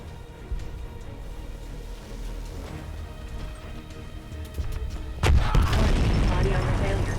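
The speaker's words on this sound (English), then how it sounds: "I'm gonna throw these fireworks at this tank" Fireworks thrown at a tank bursting in the video game Left Alive, with scattered pops and a sudden loud crashing blast near the end over constant rumbling game noise.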